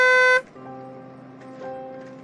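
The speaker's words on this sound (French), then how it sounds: "C'est à moi que cette voiture klaxonne?" A car horn honks in a short, loud sustained blast that cuts off abruptly, leaving a quieter steady tonal hum afterward, with no voices.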